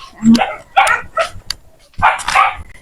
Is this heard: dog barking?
yes